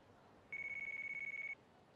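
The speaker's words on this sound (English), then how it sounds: "Oh, the classic ringtone noise" A ringing phone in the video game Yakuza: Like a Dragon gives one steady electronic tone lasting about a second over a quiet background hum.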